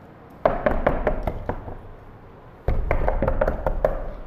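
Knuckles knock hard on a door in two quick, loud bursts of rapid raps, separated by a short pause, close by with no talking.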